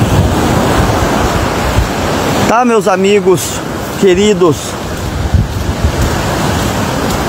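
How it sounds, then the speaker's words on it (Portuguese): Windy surf breaks on the shore at Arambaré, Brazil, a constant loud roar of waves and buffeting wind noise on the microphone, while someone speaks briefly partway through. "olha o tamanho da onda"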